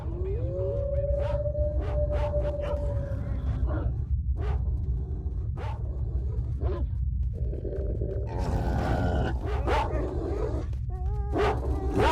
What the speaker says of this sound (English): there's a pack of dog